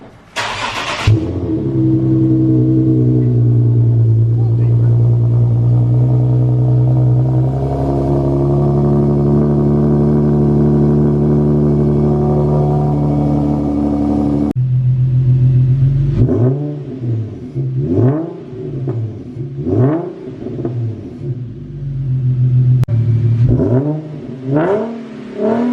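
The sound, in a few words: Infiniti G37 Type S with resonated test pipes starting, revving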